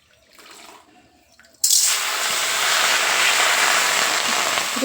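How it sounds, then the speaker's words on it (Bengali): After a quiet moment, water suddenly gushes and pours steadily over mustard greens being blanched, a loud continuous splashing rush that keeps going. "জল দিয়ে ভাপিয়ে জলটা ফেলে দেবো"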